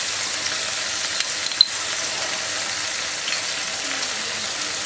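Tomato sauce for chicken spaghetti sizzles in a hot pan with a faint, even hiss and a few small pops, with no talking.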